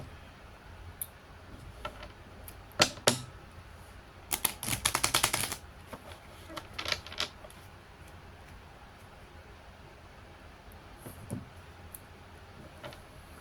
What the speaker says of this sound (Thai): มาล้างไพ่ก่อน